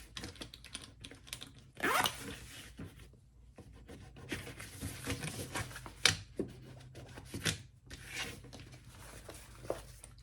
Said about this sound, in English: So there you have your zipper.